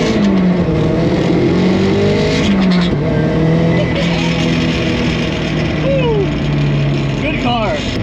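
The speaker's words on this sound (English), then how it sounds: "I want to do a pull from first to third" A turbocharged Nissan 240sx accelerates hard through first, second and third gear, engine pitch climbing in loud sweeps with quick drops at each shift, recorded up close from inside the car.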